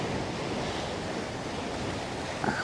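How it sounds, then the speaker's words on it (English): Sea water washes into a coastal cave in Portland, Jamaica, a steady broadband surf rush with wind noise, fairly loud and unbroken, with a slight swell at the end. "Give you guys a look of the cave the water washes into."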